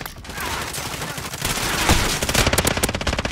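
Rapid, sustained automatic fire from the Finn LMG light machine gun in a first-person shooter video game, a loud continuous stream of shots that grows denser and sharper toward the end.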